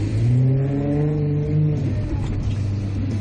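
A car engine climbs in pitch as it accelerates, pulling out behind a bus in city traffic, loud and close throughout before the revving settles into a steadier drone.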